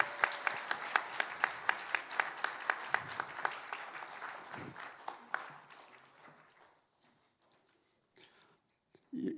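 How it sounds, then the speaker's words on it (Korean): A church congregation claps together at a Sunday joint worship service, a steady burst of applause lasting about five seconds before fading into quiet room noise and faint movement. "박수 해주시기 바랍니다"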